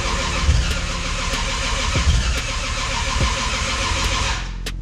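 A Toyota Supra built to 700 horsepower cranks over without firing, as it has no fuel pressure: a loud, continuous starter churn with a few rhythmic compression pulses and no catch, close to the engine.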